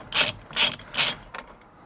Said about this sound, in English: So let's get that M12 bit in there, and then obviously you'll have to support the steering wheel and just crack it open.